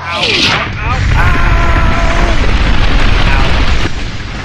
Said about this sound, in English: Take this! Eat cannon!